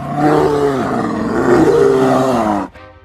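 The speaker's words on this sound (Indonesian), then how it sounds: "Beruang bisa mengeluarkan suara yang keras" A bear lets out one long, loud, throaty roar lasting a few seconds, rising and wavering before cutting off abruptly.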